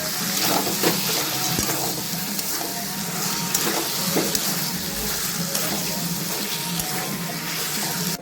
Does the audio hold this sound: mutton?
yes